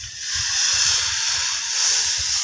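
Hot water poured into chicken cooking in a pan sets off a loud, steady hiss of steam with bubbling underneath, continuous and close throughout.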